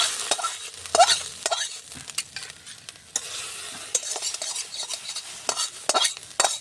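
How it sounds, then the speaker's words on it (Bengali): Vegetable khichuri is tipped into hot oil with spices and stirred in a pot. Scraping strokes of a spoon and soft sizzling come through in irregular bursts, close and fairly loud, with no one speaking. "এবার আমি খিচুড়িটা দিয়ে দিলাম।"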